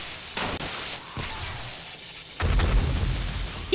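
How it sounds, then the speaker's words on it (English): Thrown explosives go off in the 7 Days to Die video game during a horde night, with a few muffled booms and bursts of rumbling noise and a louder blast toward the end. "Explosions."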